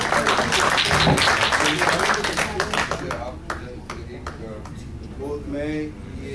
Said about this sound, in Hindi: फराज साहब के लिए तालियां।